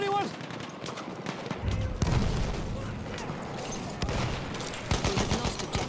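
Enemy machine gun fire in a Battlefield 1 battle, a rattling spread of shots and distant blasts running throughout under busy combat noise and in-game voice callouts.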